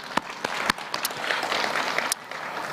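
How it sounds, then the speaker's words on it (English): Audience at a trade and investment conference clapping together, a dense, steady wash of applause with a few sharper individual claps, heard from within the room. "Another round of applause."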